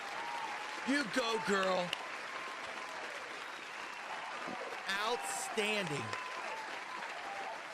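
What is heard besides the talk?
audience applause for Chelsea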